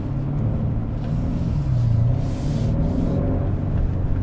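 Inside a 2021 Hyundai Sonata N Line, a front-wheel-drive sedan making 290 horsepower, a close, steady low engine drone is enhanced with artificially piped-in sound and runs alone without talk.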